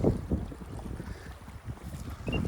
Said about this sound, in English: Southwesterly wind.